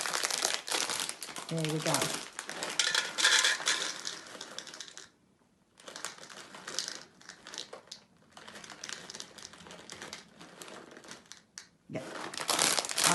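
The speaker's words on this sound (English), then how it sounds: "And then I need to weigh out 150 grams of sultanas." Sultanas weighed out for baking rock cakes, with a plastic packet crinkling and rustling loudly in bursts and brief pauses, and a person speaking briefly.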